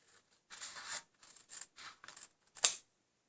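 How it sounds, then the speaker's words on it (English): Scissors cut a straight line through paper in a series of short crisp snips, close and fairly quiet, ending with one sharper louder snip and no talking. "I'm going to roughly now cut a nice straight line"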